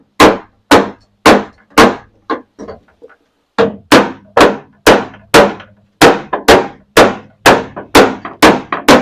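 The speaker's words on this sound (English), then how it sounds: "I'm using the wooden handle of the hammer. I'm reaching up in through the speaker hole in the door, and I'm tapping." Sharp, loud wooden taps from a hammer's wooden handle striking the inside of a car door panel through the speaker hole to work out a dent, coming in steady bursts of knocks with one brief pause midway.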